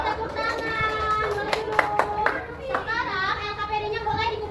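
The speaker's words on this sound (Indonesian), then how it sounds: "Oke tepuk tangan." Children in a classroom break into a short burst of hand clapping amid lively young voices and chatter, the claps crisp and close over a busy room.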